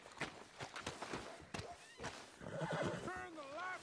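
A horse whinnies with a wavering, rising-falling cry near the end, preceded by hoof thuds and a voice talking, in Red Dead Redemption 2.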